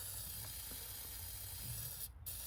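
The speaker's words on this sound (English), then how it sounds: "I'm gonna spray Lysol into the cavity." A steady hiss of Lysol aerosol disinfectant sprays continuously for about two seconds into the cabin filter cavity of an Alfa Romeo Stelvio, breaks off briefly, then resumes, close by with a faint low rumble underneath.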